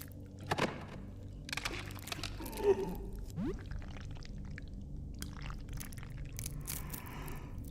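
Squishy, crunchy flesh noises from the indie survival horror game Don't Look Outside come as scattered wet thunks and squelches, moderately loud, over a low, murky background.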